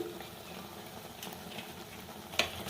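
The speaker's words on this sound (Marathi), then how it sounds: "आणि हे बघा आता चांगलं परतून घेते मी व्यवस्थित कमी गॅस केला आहे" Chicken masala sautés in a pan over a low gas flame with a quiet, steady sizzle, broken once by a brief utensil tap.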